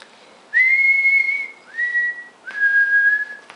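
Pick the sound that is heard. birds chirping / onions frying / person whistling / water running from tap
person whistling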